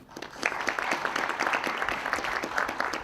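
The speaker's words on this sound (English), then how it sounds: "We'll clap for each of them." A crowd at a university debate competition applauds a final-round panel member, with full, sustained clapping at an even level throughout.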